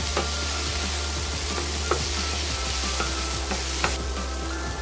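Onions frying in a pan for lasagne, a dense continuous sizzle and crackle with small pops scattered throughout, steady and close with no voices.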